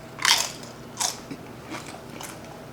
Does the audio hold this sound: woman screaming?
no